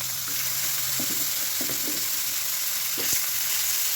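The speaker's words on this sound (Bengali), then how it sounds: "দুপুরে রান্না এখানে যে রুই মাছগুলো ভাজতেছি" Pieces of rohu fish frying in a pan give off a steady hissing sizzle with scattered soft pops and spatters, heard close and alone with no one talking.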